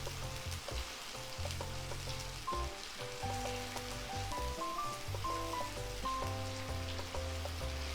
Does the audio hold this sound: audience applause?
no